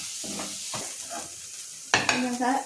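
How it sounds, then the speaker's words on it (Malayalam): Chopped onion and tomato sauté in a pan, giving soft stirring scrapes and a gentle sizzle, with a louder burst of sizzling and clatter near the end. "അപ്പോൾ സവാള ബ്രൗൺ ആയി വരാറാവുമ്പോഴേക്കും നമുക്ക് തക്കാളിയും കൂടെ ഇട്ട് വഴറ്റാം"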